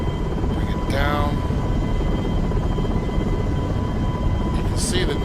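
Huey helicopter in the Prepar3D flight simulator game, a steady loud rotor and engine drone throughout, with someone speaking over it.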